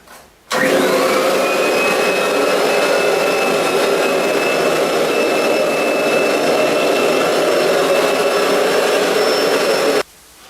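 A Kirby Avalir vacuum cleaner runs steadily at close range, a loud continuous motor roar with a high whine that starts abruptly and cuts off after about ten seconds.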